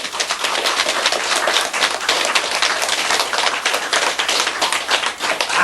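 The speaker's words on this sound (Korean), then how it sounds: "박수" An audience at a Buddhist sutra lecture applauds, with dense, loud and steady clapping from many hands continuing without a break and no talk over it.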